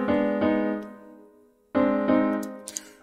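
Notation-software playback of a Borderlands 1 composition in MuseScore gives sustained synthetic chords: one held block of notes fades out, then after a short near-silence a second chord swells back in with faint high accents.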